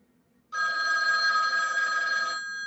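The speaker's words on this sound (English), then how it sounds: "We should hear the 2500 or the 500 set ring" A Western Electric 2500 or 500 telephone set rings with a single long, steady electromechanical bell burst of about two seconds, starting abruptly after near silence, close and loud.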